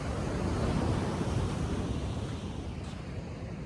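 Pacific Ocean surf at high tide on the coast of Casiguran, Aurora, a steady loud roar of breaking waves with wind rumble, continuous throughout with no voices.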